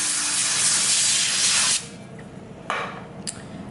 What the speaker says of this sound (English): all you're going to do is spray your foil.